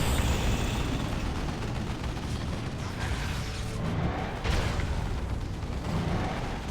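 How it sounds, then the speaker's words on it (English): In the Dawn of War 2 Retribution video game, a battle rumbles with a broad, roaring explosion blast and churning noise that stays loud throughout, swelling slightly midway. "that explosion kills more people than"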